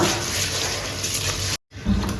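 Water runs and sloshes as rice is washed in a bowl, a continuous splashing rush that breaks off briefly near the end and then resumes, close and fairly loud, with no talking.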